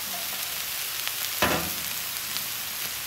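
Steak, shrimp and mushrooms fry on a flat griddle for hibachi, a steady close sizzle with a brief louder hiss burst midway, no voices.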